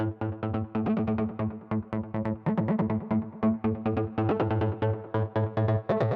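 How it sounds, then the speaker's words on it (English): Psytrance sequence synth from the Anna 2 patch Face Trigger, a loud, steady run of short, bouncy, harmonically rich synth notes pulsing in a fast rhythm, filter staying mostly closed, with no voices. "I'm introducing another sequence synth that sounds like this"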